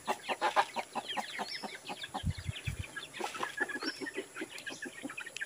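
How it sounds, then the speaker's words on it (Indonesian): Hens cluck steadily close by around a rural house, their short bursts repeating in an uneven rhythm, with a few brief bird calls in the background. "Di rumah aja ayam ini."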